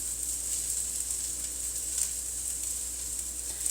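Salmon patties fry in a pan over moderate heat, giving a steady, even sizzle that holds at a constant level throughout, close and fairly soft, with no talking.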